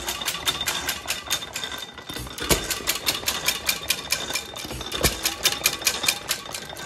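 An Aermotor 8-cycle hit-and-miss engine runs with a steady, rapid mechanical clatter of evenly spaced ticks, nearby, with a couple of heavier thumps standing out from the rhythm.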